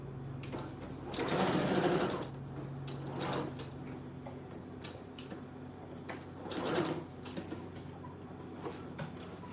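A sewing machine stitches fabric for dog clothes in short bursts, its rapid mechanical whir rising and falling with pauses between runs, fairly quiet and close, with no speech.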